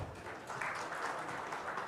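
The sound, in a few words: audience applause at a conference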